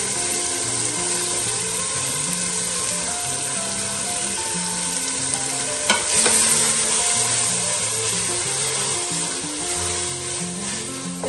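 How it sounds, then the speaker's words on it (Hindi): Minced meat keema frying with kachnar buds crackles in a loud, continuous sizzle, with a brief stir-scrape midway and steady background music running throughout. "कचनार ऐड करने के बाद आपने इसको अच्छे तरीके से भून लेना है"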